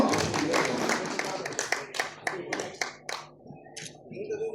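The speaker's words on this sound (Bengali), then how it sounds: "সবাই তো হাততালি দেয় সবাই তার জন্য।" Audience clapping at a prize-giving ceremony, a burst of scattered hand claps over crowd murmur and talk that thins out toward the end.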